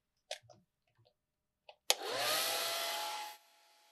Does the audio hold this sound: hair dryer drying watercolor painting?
yes